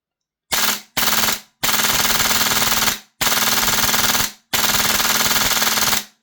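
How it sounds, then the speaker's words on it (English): A Novritsch HPA SSQ4 airsoft gun pops on full auto with no rounds loaded, firing five loud, close bursts of rapid popping. The first two bursts are short and the last three are longer, each separated by a brief silence. "you can hear that popping when it's not even got rounds in it"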